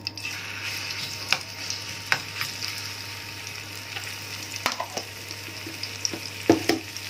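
Garlic frying in hot ghee in a small pan while cooking okra, a soft steady sizzle with a few sharp clicks and stirring scrapes, close by, no talk.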